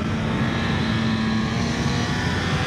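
Kawasaki ZZR 1400 motorcycle speeding along an open road, a steady, loud engine roar blended with rushing wind that holds constant throughout, with no talking.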